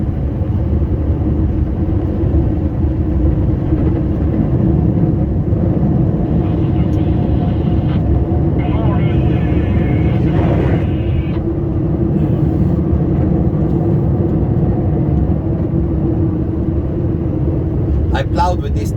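A Scania R560 truck plowing snow in a snowstorm rumbles steadily with a deep, constant engine drone and faint rattles inside the cab, while someone talks throughout over the noise.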